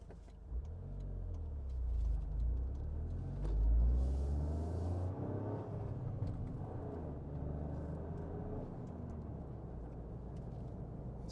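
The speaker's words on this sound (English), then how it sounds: "let's go for a drive in the GR Corolla" A 2024 Toyota GR Corolla's engine rumbles low and steady from inside the moving car, swelling briefly as it pulls away and then settling into a smooth cruising drone.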